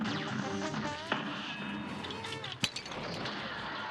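Bomb shots bursting on impact in the Cuphead video game, with a sharp blast around the middle of a busy game soundtrack and a couple of smaller pops after it.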